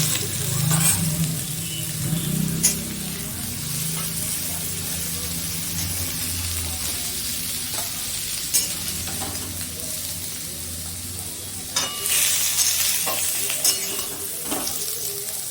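Cumin seeds and leaves tempering in hot oil for a raw jackfruit and shrimp curry, a loud continuous sizzle with spatula scrapes and a few metallic clinks, close up and free of talk.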